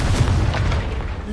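Confringo blast spell fired in the video game Hogwarts Legacy, a short, heavy, booming explosion with a deep low rumble that fills the whole moment.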